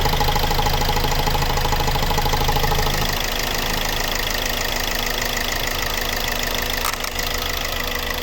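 A 2015 Hyundai i40 with a 1.7 CRDi diesel idles steadily, a dense, continuous clatter that drops slightly in level after a few seconds and then holds even, with no voices over it.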